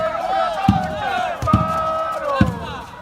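Pioppo Futsal supporters standing in the stands at a Serie C2 Sicilia futsal match, chanting and shouting loudly in unison, with sharp thuds or drum hits punctuating the crowd noise.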